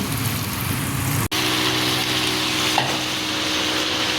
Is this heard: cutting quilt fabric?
no